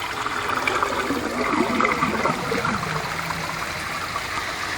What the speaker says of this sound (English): Now you're going to see the water rising and bubbles coming up. It's going to start flowing into the 3-inch hole.